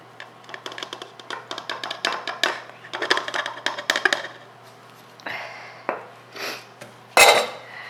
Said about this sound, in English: I'm gonna take one of the 1 cup canning jars and use that